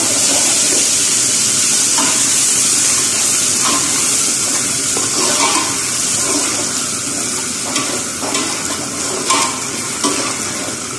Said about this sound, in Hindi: अभी इसमें अदरक डाल देंगे।